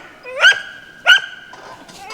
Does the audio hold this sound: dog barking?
yes